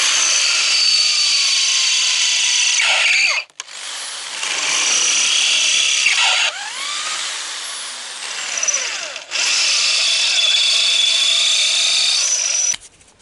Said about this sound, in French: moi, j'ai découpé ça dans un morceau de ferraille